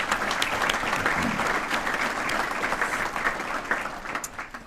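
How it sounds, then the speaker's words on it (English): A crowd at a university scholar-athlete awards ceremony applauds the athletic director in a dense, sustained wash of clapping that stays steady before thinning slightly at the end. "So let's do a round of applause for your athletic director"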